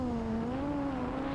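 An FPV quadcopter drone flying fast gives a sustained high-pitched motor whine with smoothly wavering pitch, steady and close for a brief moment.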